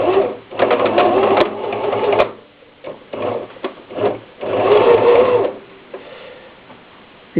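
Sewing machine stitching a rat-tail cord at a 7 mm setting, running in two long bursts of steady mechanical whirring with short pauses and a few quieter stitches between, close and fairly loud.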